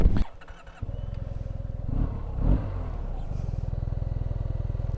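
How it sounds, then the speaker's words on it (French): A Yamaha TMAX 2025 scooter engine runs steadily at close range, with a throttle blip swelling briefly in the middle and an even, pulsing idle continuing through the rest. "quand on donne du gaz à vide, la roue elle tourne"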